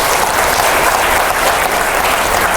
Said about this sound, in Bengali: তাদের জন্য একটা হাততালি।